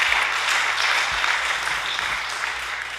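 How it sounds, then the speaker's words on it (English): A workshop audience claps steadily for lecturer Kim Warren, a dense, even round of applause that holds throughout with no voices over it. "give Kim a round of applause for his excellent lectures"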